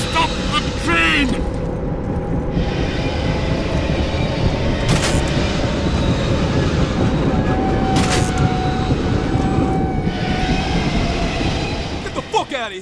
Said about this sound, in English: Look, I have to stop the train!